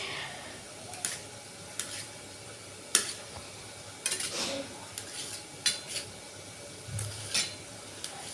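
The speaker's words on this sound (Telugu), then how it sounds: "ఇలా టమాటాలను అయితే చిన్న చిన్న పీసెస్గా అయితే కట్ చేసుకుంటున్నాను" Knife chopping tomatoes into small pieces for a bottle gourd (sorakaya) curry: a series of sharp, separate clicks and taps on a board, spaced irregularly, with light clatter of utensils and a faint sizzle underneath.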